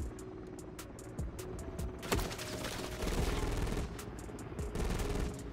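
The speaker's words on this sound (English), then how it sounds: "I don't even know where I'm getting shot from." Rapid gunfire crackles in a Call of Duty: Modern Warfare III multiplayer match. Dense automatic bursts and scattered single shots repeat at moderate loudness over a continuous battle din.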